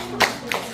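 Two sharp hand claps ring out in a children's Sunday school church service in Incheon, spaced about a third of a second apart, close and distinct in a quiet room.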